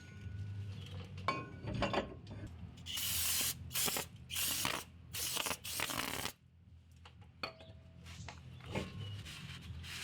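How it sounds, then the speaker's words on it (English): Brake cleaner is sprayed onto the disc brake rotors of a Trick Chassis brake install in a run of loud, hissing aerosol bursts. Light clinks and handling noises come before and after the spraying. "You always want to try to spray them down a little bit."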